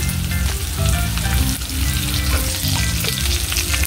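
Tilapia fish sizzling and crackling in hot cooking oil, a loud continuous fry close up with no pauses, while low music or background tones run underneath.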